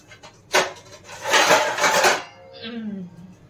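A metal lid clatters onto a pot of corn boiling in salted water, a sharp clank followed by a rattling scrape and settling, close up, with brief faint sound at the end.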